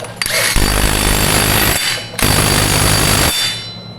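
Power impact tool torquing a new Demon axle nut onto an ATV hub, two loud close rattling bursts of hammering, each about one and a half seconds, separated by a short pause.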